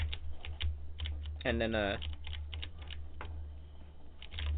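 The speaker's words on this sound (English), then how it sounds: "I found this keyboard. I'm using it right now" A cheap second-hand computer keyboard clatters with quick, irregular key clicks close up, steady throughout, while a voice briefly speaks over the typing.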